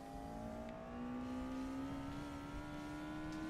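Lotus car engine in Forza Motorsport revving steadily, a faint but clear tonal whine rising slowly in pitch over a low rumbling drone, with no talking.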